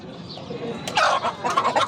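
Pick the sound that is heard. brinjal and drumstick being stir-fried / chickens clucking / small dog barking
chickens clucking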